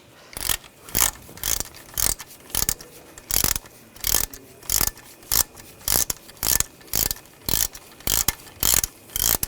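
Ratchet wrench with an 11mm socket backing a nut off a thermostat housing bracket on a 2000-2006 BMW X5 3.0L inline-six, rapid repeated clicking bursts in a steady rhythm, close and loud, no talk.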